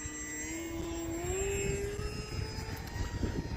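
A HobbyZone Aeroscout S RC airplane flies in windy conditions, its steady electric motor whine holding constant with a slight pitch rise midway, accompanied by continuous low wind rumble throughout.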